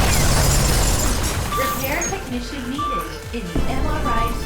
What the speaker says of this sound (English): So I chucked the chair into the MRI machine predictably blew up